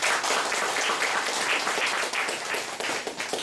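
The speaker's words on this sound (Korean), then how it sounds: "박수." A congregation claps during a church's 30th-anniversary worship service, producing a dense, continuous wash of applause from many hands that stays loud and even throughout, with no voices rising above it.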